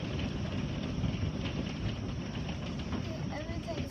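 Hail pounds a house during a storm in Hoover, Alabama, a dense, steady roar of clattering impacts that fills the whole clip at constant loudness.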